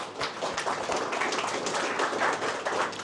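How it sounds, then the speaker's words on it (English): Meetup audience clapping for a sponsor at a DevOps and AI gathering in Latvia, a dense steady wash of many hands applauding together for about three seconds with no talking. "big applause to Arvato Systems"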